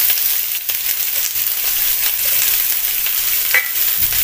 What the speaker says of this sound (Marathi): तेल टाकल्यानंतर कांदा टाकायचा,